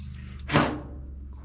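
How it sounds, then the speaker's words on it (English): A single short spray of carburetor cleaner onto a spark plug hisses for about a quarter second, close by, against a low background hum. "I'm just going to spray it off with some carb cleaner"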